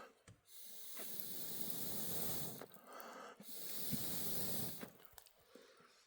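Extendable bellows blow air into a struggling fire in two long pushes, each a breathy rushing hiss that swells and stops, with a few soft clicks and thumps between them, close by and without talk.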